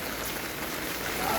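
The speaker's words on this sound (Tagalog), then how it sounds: "So kanina pa ang ulan, actually maagang maaga umuulan na" Rain falling in Myanmar, a dense, steady hiss of drops close by with no pauses, heavy and continuous throughout.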